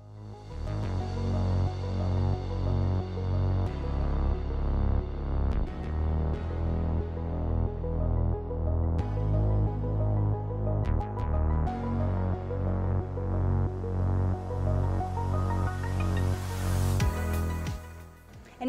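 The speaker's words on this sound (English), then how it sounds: "go back to my sewing machine and just sew back and forth a few times" Steady mechanical throbbing of a sewing machine running continuously at close range, with a low hum and occasional clicks, no talking.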